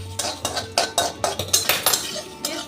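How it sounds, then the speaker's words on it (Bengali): A spatula scrapes and clinks against a pan in a quick, irregular rhythm while cumin, peanuts, sesame and poppy seeds dry-roast for a Kolhapuri chicken masala, close and clear, with no talking. "এই মশলাটাকে আমি একটু ভেজে নেব।"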